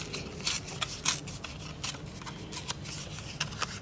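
Paper is torn by hand for a mixed media craft tag, producing close, crisp crackles and short ripping bursts in an irregular rhythm, with no voices.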